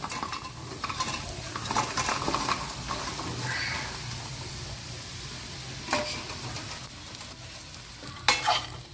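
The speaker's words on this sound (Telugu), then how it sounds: "ఇప్పుడు ఈ శనగలు ఇందులో వేసుకోవాలి" Boiled chickpeas stirred and frying in a pan for dry chole, a crackling sizzle broken by repeated spatula scrapes and metal clinks against the pan, close, with a sharper scrape near the end and no voices.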